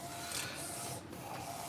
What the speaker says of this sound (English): Here's the printer working on one right now.